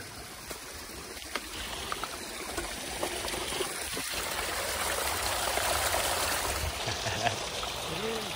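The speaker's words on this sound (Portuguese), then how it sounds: "Essa é uma das quedas d'água aqui" Waterfall on a forest trail, a continuous broad rushing of falling water, steady and fairly close, with a few faint knocks and thumps.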